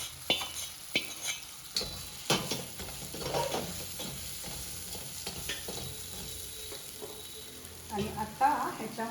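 Oil and whole masoor lentils sizzle steadily in a pan while being stirred, a continuous close frying hiss with occasional scraping clicks of the spoon, no talk over it.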